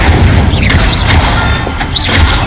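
Incendio fire spells cast in Hogwarts Legacy, loud whooshing bursts and booming impacts in quick succession, with a chiming magical shimmer rising over the rumble, close and dominant with no talk.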